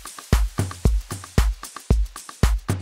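A subtle deep house drum loop built in FL Studio, with a steady beat of punchy kicks and crisp hat ticks repeating in a tight rhythm, fairly quiet and alone.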